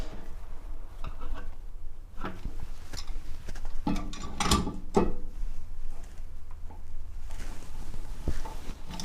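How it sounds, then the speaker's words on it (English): Channel lock pliers grip and loosen the nut on a toilet fill valve. Close metallic clicks and scraping creaks come in irregular bursts, with one sharper cluster midway. "we're going to have to use the channel locks to probably take that off, or at least just get it loosened up"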